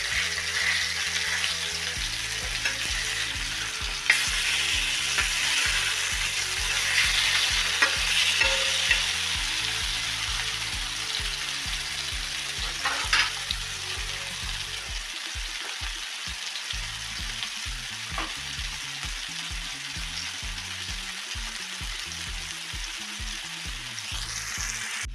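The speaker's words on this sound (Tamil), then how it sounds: "பாருங்கள், 2 பக்கமும் நல்லா வெந்துருச்சு மீன்." Fish pepper fry sizzling in a pan, a loud continuous close frying hiss with occasional spatula scrapes and a steady background hum throughout, no speech.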